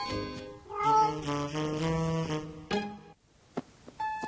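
A child imitating a cat's meow: a long drawn-out mewing call, then a couple of short clicks and a brief higher squeak at the end.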